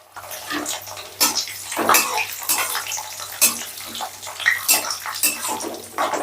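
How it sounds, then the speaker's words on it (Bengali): Cashews and raisins are stirred in a frying pan, giving close scraping and sizzling bursts at irregular intervals over a faint steady hum. "কিশমিশটা একটু নাড়াচাড়া করতেই যখন ফুলে ফুলে উঠবে"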